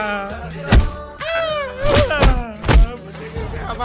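Comic slaps in a Haryanvi comedy sketch: three sharp, loud smacks land about a second apart, each a brief thwack amid raised, whining voices of men arguing.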